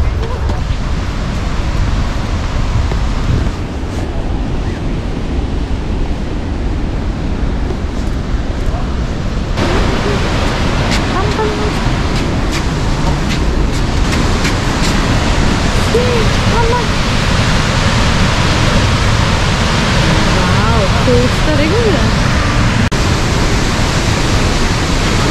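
A waterfall in the Canadian Rockies gives a constant, loud, broad roar of falling water that stays steady throughout, with faint voices now and then beneath it.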